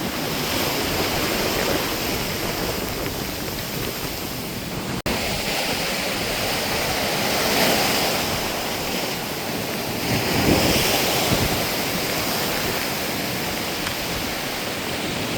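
Sea surf surging in toward a coastal street, a steady broadband wash of waves rising and falling with gusty wind noise, swelling louder near the middle and end, with no voices.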